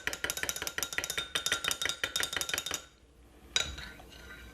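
A spoon stirs a honey drink in a glass, rapid rhythmic clinking against the sides in quick bursts, then a pause and one last sharp clink as the stirring stops.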